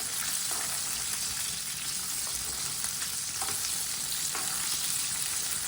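Chicken pakora fries in hot oil, a dense continuous sizzle and crackle with occasional brief stirring scrapes, close and steady throughout, with no talking.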